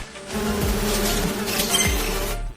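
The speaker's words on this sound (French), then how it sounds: "Essaim venimeux mineur, négligeable, peut être dévoré." A minor swarm of venomous insects buzzing as a dense, steady, loud hum that holds for a couple of seconds and then cuts off abruptly, close by with no voices.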